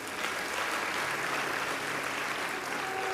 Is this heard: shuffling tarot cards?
no